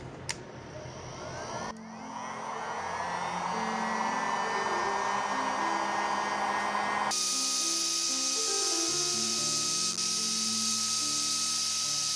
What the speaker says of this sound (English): hit them with the heat gun and see if they straighten out a little bit more than they were before